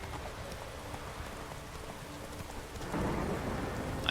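Roach the horse galloping in The Witcher 3, a steady stream of soft hoofbeats under rain-like noise, growing slightly louder near the end, with no talk.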